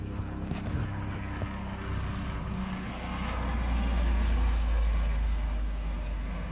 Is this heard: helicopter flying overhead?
yes